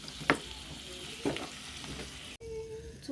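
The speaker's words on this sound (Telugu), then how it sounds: "మనం ఆ నూనెలోనే ఇందాక కట్ చేసుకున్న కీర ముక్కల్ని అయితే వేసుకుంటున్నాము" Cucumber pieces fry in oil in a pan with a steady, close sizzle, punctuated by a few louder stirring scrapes and clacks, with no voices.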